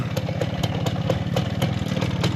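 A Minsk motorcycle engine runs warm at idle, producing a steady, close, rhythmic thumping with a clattery, regular beat and no voices.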